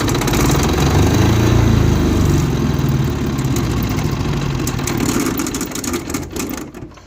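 An Aurora 6800SDE diesel generator runs loud and close with a steady, throbbing mid-pitched engine drone that eases slightly and fades toward the end.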